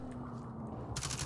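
Rapid video game gunfire in a short, fast rattling burst near the end of the moment, over a low continuous background hum.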